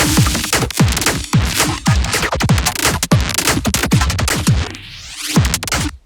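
A drum loop with crunchy, gritty processing, busy hits full of texture, ending in a rising swept tone as the beat cuts out.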